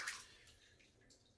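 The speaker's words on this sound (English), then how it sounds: "having this nice bath" Bath water sloshing and splashing as a child plays in a bathtub, a brief bright splash at the start fading into soft, quiet ripples with no talking.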